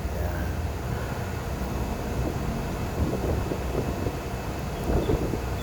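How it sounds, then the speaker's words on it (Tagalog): Strong wind buffets the microphone in a continuous low rumble, with faint gusty bursts and no talking, at Mount Arayat in Pampanga, Philippines. "Lakas ng hangin."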